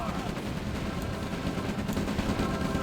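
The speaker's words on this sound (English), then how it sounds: "Lots and lots of rockets in that mix." Rockets and gunfire in a video game battle between tank armies, a dense continuous roar of explosions and rapid shots at steady loudness throughout.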